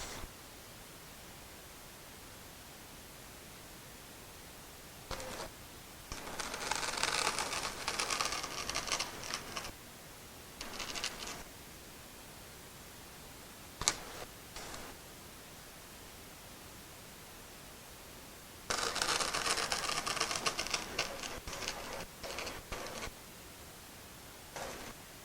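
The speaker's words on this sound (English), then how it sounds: "I'm going to go down one more setting on the knife and cut those out" A knife machine cuts out shapes for flare nut wrenches in two long bursts of hissing, rasping noise. Brief clicks and short scrapes fall between the bursts, with quiet workshop stretches around them.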